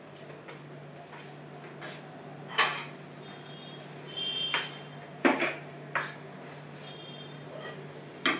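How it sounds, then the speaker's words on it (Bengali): Cooked moong dal kachori filling is scraped from a pan onto a separate plate, giving a series of light, fairly close clinks and scrapes spaced irregularly over a steady low hum. "এটা আমি একটা আলাদা প্লেটে ঢেলে দিচ্ছি যাতে এটা তাড়াতাড়ি ঠান্ডা হয়ে যায়"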